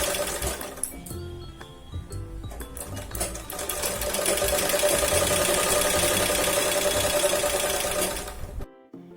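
A sewing machine stitches cloth for a potli bag: a steady, fairly loud mechanical whirr with a rapid needle rhythm that runs nearly the whole time, then stops abruptly near the end.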